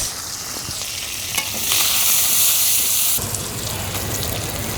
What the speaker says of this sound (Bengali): জিরা ফোড়ন দিলাম দিয়ে দিলাম পেঁয়াজ কাঁচামরিচ